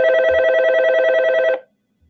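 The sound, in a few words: telephone ringing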